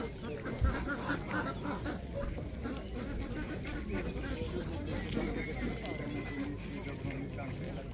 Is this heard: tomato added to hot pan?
no